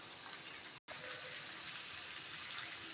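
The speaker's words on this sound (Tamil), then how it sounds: "இப்போ வந்து நம்ம புளி தண்ணியை சேர்த்துக்கலாம்" Tamarind water pouring steadily into a pan, a continuous watery gush with one brief break partway through.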